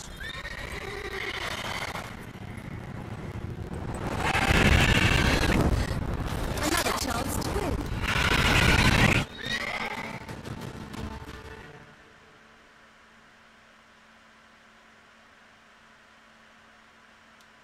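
A horse whinnies and hooves clip-clop in The Witcher 3, the whinny loud and close, with a voice speaking over part of it and quiet near-silence for the last few seconds.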